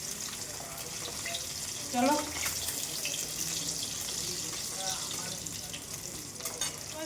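Tap water runs steadily in a kitchen sink while dishes are washed, a continuous close hiss with a brief clatter near the start and a short spoken word over it.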